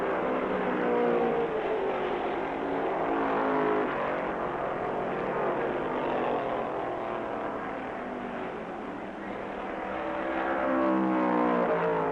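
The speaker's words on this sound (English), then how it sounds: "Isaac sweats blood before his number 35 finally overpowers the number 41 Ford" 1965 NASCAR Grand National stock cars, Dodge and Ford, racing at the American 500 with a steady loud engine roar that swells and fades slightly as cars pass, continuous throughout with no talk.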